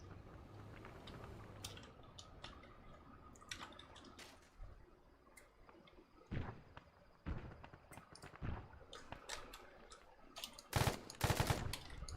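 Gunfire from a gun in the game ArmA 3: scattered sharp shots and short bursts over a quiet background, growing louder and denser toward the end.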